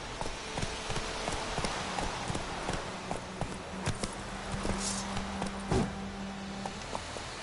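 Hooves of the horse Roach clip-clop in a steady rhythm across the Witcher 3: Wild Hunt game world, a continuous trotting-to-galloping patter close by with a faint low tone running beneath.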